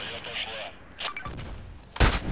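Gunfire from the online shooter Contract Wars: a loud burst of shots near the end, preceded by fainter game effects, with a voice speaking over parts of it.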